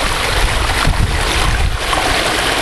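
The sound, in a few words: water flowing in backyard waterfall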